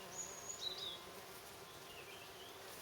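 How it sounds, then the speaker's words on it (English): A small carder bee buzzes while foraging on a flowering plant climbing a bamboo trellis in a permaculture garden, a faint, steady outdoor hum that peaks briefly early on and then stays low, with no talking. "you can see just as we speak, the little carder bee there is working away"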